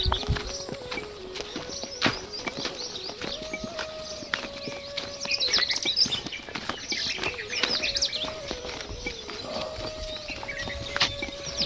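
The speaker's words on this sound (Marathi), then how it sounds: "पक्ष्यांचा मस्त सुंदर असा किलबिलाट येतोय." Birds chirp and tweet in bright, repeated calls near a village along the south bank of the Narmada, with steady hoof clip-clops and footsteps moving underneath.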